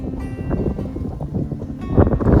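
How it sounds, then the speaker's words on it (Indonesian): Strong wind gusting across a mountain summit in Indonesia, a steady low roaring rush against the microphone with buffeting swells, loud and continuous throughout. "Wih, anginnya tuh liatin teman-teman. Nih kita udah sampai puncak."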